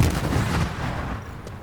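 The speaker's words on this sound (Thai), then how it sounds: "เราจะเอาเงินที่มีมาทำการระเบิดประตูตรงนี้" A deep, booming blast rumbles and fades out over a second or so, a door being blown open in Call of Duty: Black Ops Cold War, a heavy explosion with a long low tail.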